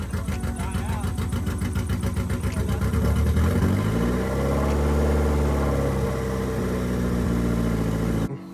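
A repaired Mazda Miata engine that still has issues runs close and loud, first chugging with a rapid uneven rhythm, then revving up into a smoother drone before it cuts off abruptly.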